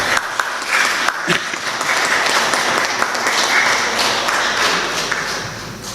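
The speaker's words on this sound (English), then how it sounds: "I can say it was interrupted with applause" A graduation audience at Griffith College Cork applauds, sustained dense clapping from a large crowd filling the room at a steady level throughout.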